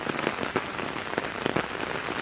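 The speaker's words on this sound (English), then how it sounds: "so you can see the rain." Rain falling outside, a steady close patter of drops on surfaces with occasional heavier splashes, continuous and fairly loud with no talking.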